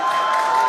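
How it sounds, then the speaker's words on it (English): A crowd watching SpaceX's fourth Starship flight test cheers and applauds in a steady, distant roar, broad and sustained, with a faint tone running through it. "you can hear the crowd is very excited about it"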